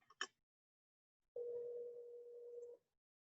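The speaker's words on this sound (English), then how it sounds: "let me call her really quickly." A telephone on speakerphone produces a brief clicking burst, a short silence and then a steady dial tone that hums along for over a second before cutting off abruptly.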